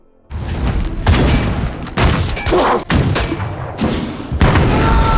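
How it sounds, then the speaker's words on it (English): Heavy gunfire in a pirate film scene as men fire on a cave position: loud, booming volleys in several sustained bursts with short gaps, no speech. "The men all unload on her position, but Ercell taunts them"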